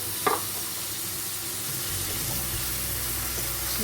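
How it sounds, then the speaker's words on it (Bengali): Garlic and ginger dropped into onions frying in a pan: one short clack, then a steady hiss of sizzling oil that grows fuller and louder partway through, with no speech. "তার সাথে সাথে আমি এখানে গার্লিক আর জিঞ্জারটাও দিয়ে দিচ্ছি"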